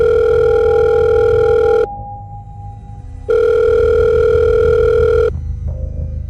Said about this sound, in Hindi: पॉकेट में रखा उसका फोन दोबारा बजा